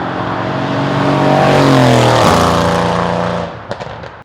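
A Mercedes-AMG C63 S wagon with a 4-liter twin-turbo V8 revs loudly, the exhaust note climbing in pitch to a peak, then dropping off into a few sharp pops and crackles as it fades.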